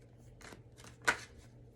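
Tarot cards being shuffled by hand in a few quick, soft riffling bursts, one slightly sharper than the rest, heard close in a quiet room with no talking.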